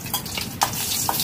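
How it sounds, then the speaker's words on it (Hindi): Red chillies frying in hot oil in a kadhai, a steady close sizzle with a few brief pops and crackles throughout. "कढ़ाई में तेल हमारा गरम हो चुका है, अब इसमें ऐड कर देंगे ये लाल मिर्च, इसको ब्राउन होने तक तो फ्राई करेंगे"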